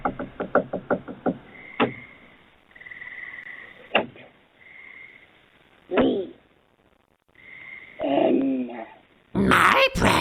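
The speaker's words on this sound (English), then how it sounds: "Some scratching and knocking sounds can be heard, along with a creepy voice demanding to be let in." Knocking and scratching sounds from a supposed haunting, with a quick burst of knocks at the start, then scattered single thuds and rasping scrapes, one low voice-like sound and a harsh burst at the end, separated by near silence.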